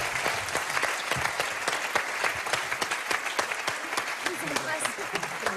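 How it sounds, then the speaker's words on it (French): A studio audience applauds after a song on a live French TV show, sustained crowd clapping with distinct hand claps throughout and voices faintly underneath. "On l'applaudit très fort."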